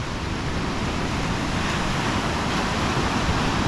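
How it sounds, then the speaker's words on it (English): Ocean surf at a public beach in Orange Beach, steady broadband wash of waves rolling in, loud and continuous with wind noise, no voices. "Take a moment just to look at the surf. Love watching the waves roll in."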